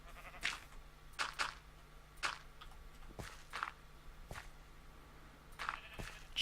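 Several short sheep bleats in Minecraft, scattered and moderately faint, mixed with soft blocky footsteps and small clicks over a quiet background.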